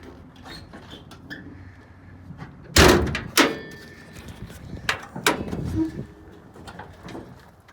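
The hood of a Chevy C10 pickup popped open, a sharp metallic bang followed by a second clunk and some lighter knocks and rattles, close by with quieter noises between.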